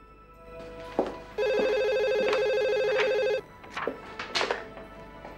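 A landline telephone rings in a home in one long, steady electronic burst, loud and close, with brief clicks and a short voice sound after it stops.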